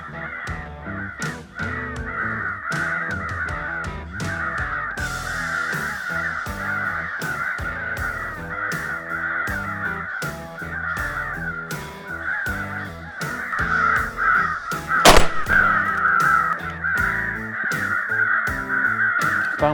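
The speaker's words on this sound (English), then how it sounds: "Let's get some crow calls and see if we can't get some birds in." Several crows caw loudly and repeatedly at a hunting spot with decoys set out, their harsh calls overlapping continuously, with one very loud close call near the middle; a crow call device may also be sounding.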